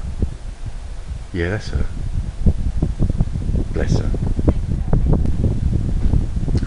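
Wind buffeting a microphone outdoors, a steady low rumbling roar with gusty thumps throughout while people talk over it.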